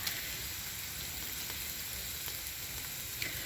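Pork on a Thai mookata grill-and-broth pan sizzles steadily close by, a dense, even frying hiss with faint bubbling and no voices.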